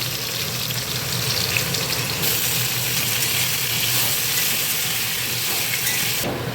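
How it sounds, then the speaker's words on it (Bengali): Onion and potato fry steadily in a pan, giving a continuous dense sizzle and hiss that stays even throughout with no talking. "পেঁয়াজটাকে ভালো করে ভেজে নেব পেঁয়াজ যখন অর্ধেক ভাজা হয়ে যাবে তখন আমি দিয়ে দেবো এর মধ্যে আলু"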